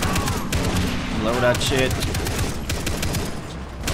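Heavy gunfire in Far Cry 3, a dense fusillade of rapid shots from several weapons, loud and continuous, with a voice speaking over it.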